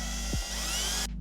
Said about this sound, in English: drill the hole right there as well.